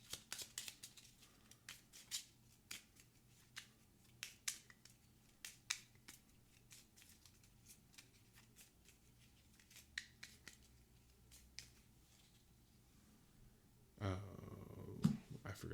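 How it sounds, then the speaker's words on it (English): Playing cards for the Gloomhaven: Jaws of the Lion board game are shuffled by hand, a string of sharp, irregular snapping riffles close to the microphone, followed by a louder rustling burst near the end. "So we're going to shuffle that into here."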